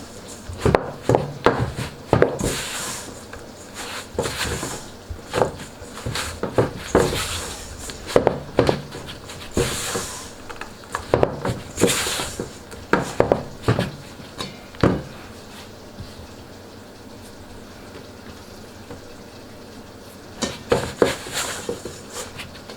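Pizza dough being mixed by hand in a bowl with a spatula or wooden spoon, giving repeated close scraping, knocking and rubbing strokes in an irregular rhythm with no talking.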